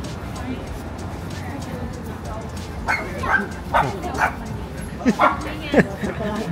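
A dog barks in a quick series of sharp yips over steady background noise, the barks clustered in the second half and fairly close.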